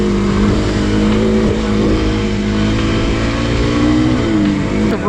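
Kawasaki KLX250 dual-sport motorcycle ridden along a long rocky trail, its engine droning loud and close throughout, pitch wavering with throttle changes and climbing briefly near the end, with no talking.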